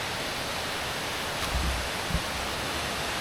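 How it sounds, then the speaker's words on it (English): Second waterfall on a walk at Millstream, a steady broadband rush of falling water heard continuously at moderate volume, with a couple of soft low thumps partway through. "Continuing our walk down, that was the first waterfall."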